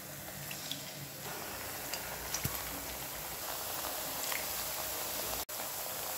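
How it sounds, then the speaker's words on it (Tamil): Mullu murukku dough frying in hot oil, a steady close hiss and crackle of bubbling oil that continues without a break, with faint small pops throughout. "இப்போ இதை ஒன்றொன்னா எடுத்து எண்ணெயில் ட்ரா பண்ணிடலாம்"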